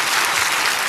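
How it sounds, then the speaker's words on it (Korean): A church congregation bursts into loud, dense applause during a sermon, a brief close wash of clapping from many hands. "박수요, 박수."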